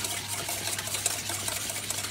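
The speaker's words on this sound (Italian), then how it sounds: "aggiungo ancora un po' d'acqua" More water dribbles into the egg-and-salt wash for a mustard-crusted tuna, a gentle continuous trickle lasting a couple of seconds, heard up close with faint clinks and no talking.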